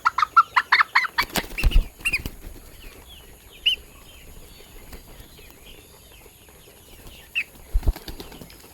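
Chickens on a small home farm flap their wings in a rapid flurry of bursts at the start, then scattered clucks and a few more wingbeats follow while the birds move around feeding.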